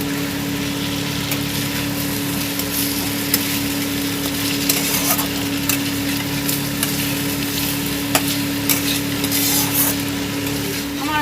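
Potato 65 (aloo 65) is stirred in a hot pan, giving a loud steady frying hiss with scattered scrapes and knocks of a spoon over a low constant hum in the background.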